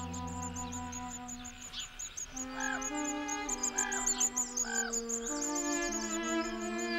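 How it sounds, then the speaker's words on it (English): A raven calls in the wild, giving three repeated, evenly spaced calls at moderate distance over a steady bed of background music. "Nearby, a raven,"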